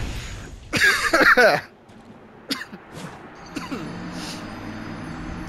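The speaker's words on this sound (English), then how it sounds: "I apologize for coughing there." A loud, close cough comes in a short burst of several hacks, followed by quieter throat sounds and softer rasps.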